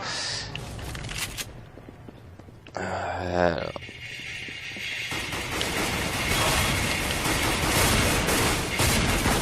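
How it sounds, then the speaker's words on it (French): Shotgun fire in Counter-Strike: Global Offensive on Xbox 360, a few loud blasts with mechanical clatter over a dense, busy game soundscape that swells and stays loud toward the end. "C'est un fusil à pompe si je me trompe pas."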